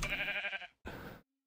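A Minecraft sheep bleats twice in quick succession, a short wavering baa followed by a briefer one, clear and close with a short gap between the two calls.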